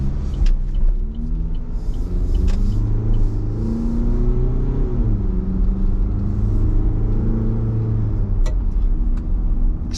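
A 2021 LDV D90 SUV with a 2-litre bi-turbo diesel accelerates hard. Its engine drone rises and dips through the gears, close and continuous for ten seconds, with no one talking.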